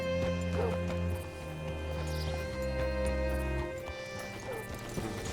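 In Red Dead Redemption 2, horse hooves clop in a steady rhythm over tonal background music, with a brief whinny and faint game sound effects.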